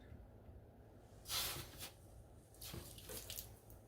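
Water is poured onto a saw blade drill to cool the hot metal, coming as a couple of short splashing pours with a quieter gap between them, close by and with no talking.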